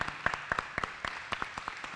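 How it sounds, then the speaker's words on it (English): A small audience at a mayoral candidates forum claps, sparse separate hand claps in an uneven rhythm, fairly faint and heard at a distance in an indoor hall. "Won't you all give God a hand clap of praise for their presence here tonight?"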